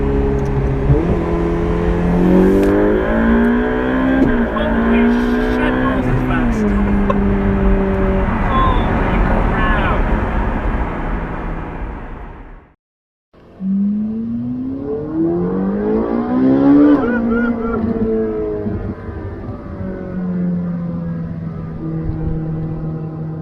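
A Ferrari 488 Pista engine revs loud and close, its pitch climbing gradually in repeated sweeps, cuts out briefly, then revs up again.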